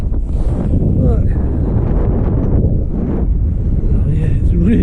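Strong wind buffets an outdoor microphone during a night walk on grassy ground, a loud, constant low roar with gusty swells throughout, while a voice talks faintly underneath.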